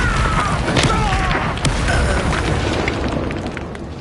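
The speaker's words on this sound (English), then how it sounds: "Confringo!" A Confringo spell explosion in Hogwarts Legacy sounds as one loud, sustained booming blast. Near-continuous rumble and crackle run through it, with a brief burst partway in.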